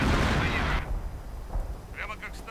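Artillery fires in a strategy video game battle, with a loud, dense burst of blasts that fades and then gives way to scattered smaller gunfire under a commentator's voice.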